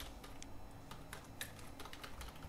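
Soft, quick clicking of a computer keyboard as code is typed for a Flutter app, irregular keystrokes close by but faint in a quiet room.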